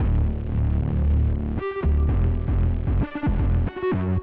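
Reese bass synth in a beat, a thick, throbbing detuned low drone that holds steadily, then breaks into short stabs and upward pitch bends near the end.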